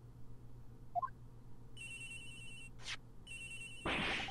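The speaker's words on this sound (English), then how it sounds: "Agent X's phone! It's ringing from somewhere, sir!" A cell phone ringing in the Ace Attorney Investigations video game, two sustained electronic ring tones with a brief chirp between them and quieter blips before, fairly faint against a low hum.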